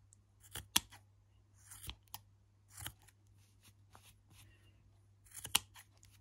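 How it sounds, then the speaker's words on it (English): Scissors trim a yarn pom-pom for a crocheted hat in quiet, crisp, irregular snips, close up over a faint steady hum. "And now try and trim this pom-pom."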